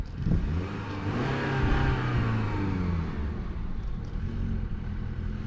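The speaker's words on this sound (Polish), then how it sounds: "Widzicie, autko odpala." A car engine catches and revs up, rising and settling into a steady idle, fairly close with no voices.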